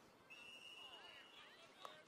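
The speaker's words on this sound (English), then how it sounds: "And a whistle." At a men's college soccer match between Elmhurst and Edgewood, a referee's whistle gives one clear, sustained blast, followed by faint voices and field noise.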